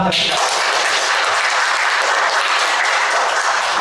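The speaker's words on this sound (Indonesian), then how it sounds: "Tepuk tangan." Steady, dense applause from a classroom of students at a lesson on broadcast scriptwriting, loud and close, with no talking over it.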